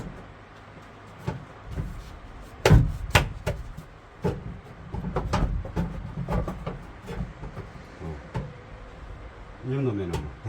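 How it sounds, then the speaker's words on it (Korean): Hammer blows strike a steel plate partition wall inside a Hyundai Starex van, sharp metallic bangs spaced irregularly among clunks and shuffling, with someone talking in between. "망치를 조금 치고"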